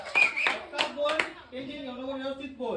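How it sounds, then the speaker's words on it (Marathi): A group at a Maghi Ganeshotsav celebration claps in a brief, loose burst of a few nearby claps, followed by voices calling out in a sing-song chant. "टाळ्या वाजवा टाळ्या."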